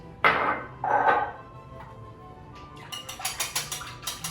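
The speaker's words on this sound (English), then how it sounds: "I have 3 eggs here, and I'm just going to whisk this together first" Three eggs and milk being whisked for mini quiche, heard as a few clinks and then a quick run of rhythmic tapping strokes against a bowl, close and fairly quiet.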